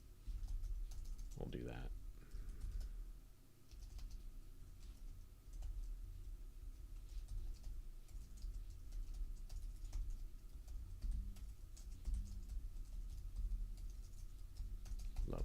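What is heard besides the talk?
typing code on a computer keyboard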